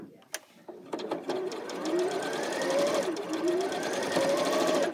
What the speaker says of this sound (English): You're sewing there on the dotted line.